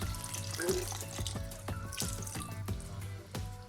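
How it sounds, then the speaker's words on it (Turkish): Drinking water pours in a continuous splashing stream into a pot of purslane stew, close and steady, with a faint clatter underneath. "Artık suyunu ilave ediyorum. Şöyle üzerine geçecek kadar su koyuyorum."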